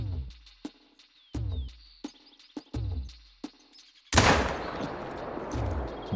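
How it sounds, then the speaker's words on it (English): A hunting rifle fires a single loud, booming shot in theHunter: Call of the Wild. It comes after a run of short, sharp clicks and chirps and leaves a long, rumbling echo. "let's shoot that."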